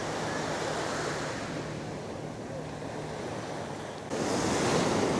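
Sea waves surge and wash onto a North Sea beach in steady, broad roaring surf with wind noise over the microphone, swelling louder near the end; no voices.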